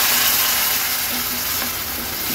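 Water poured onto a paste of coconut, ginger, garlic and onion sizzling in hot oil gives a loud, dense, steady hiss and crackle, close up and continuous, with no voices.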